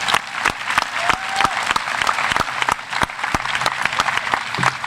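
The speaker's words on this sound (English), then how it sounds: "Could we give them a round of applause for that?" At a high school graduation ceremony, an audience breaks into loud applause for scholarship earners, with dense clapping punctuated by sharp individual close claps and faint crowd murmur underneath.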